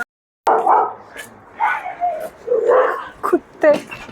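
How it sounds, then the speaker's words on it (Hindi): A dog barks and yips in a few short bursts near a store's front counter, mixed in with someone talking nearby. "कुत्ते"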